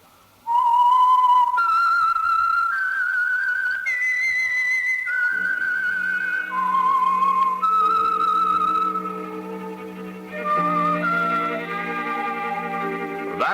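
A lone whistler performs the eerie signature tune of the old radio drama The Whistler, clear sustained notes gliding between pitches, with an orchestral accompaniment joining near the end.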